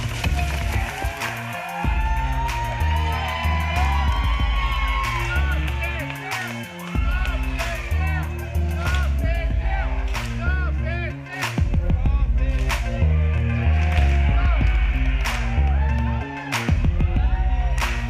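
At a live OVW wrestling show, a crowd cheers and claps along in a steady rhythm behind a tag team champions match, with loud sharp impacts and a commentator talking over the noise throughout.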